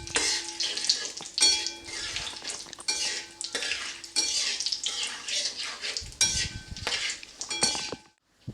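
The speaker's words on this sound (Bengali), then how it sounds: "দিয়ে এটা আমি কয়েক সেকেন্ড নেড়ে নেব।" Cinnamon stick, cloves and a halved bay leaf frying in hot oil in a pan, a soft sizzle broken by repeated scraping strokes and clinks of a spoon stirring against the metal.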